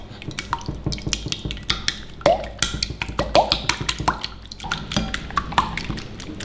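Five chicken eggs are beaten with salt, stock powder and ground pepper in a bowl, making rapid, uneven wet clinks and slaps of the whisk close up.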